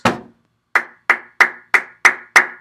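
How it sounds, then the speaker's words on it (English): Rhythmic clapping and stomping practice: one low stomp, a pause, then six sharp, evenly spaced claps, loud and close with no talk over them. "It's a full clap and stomp"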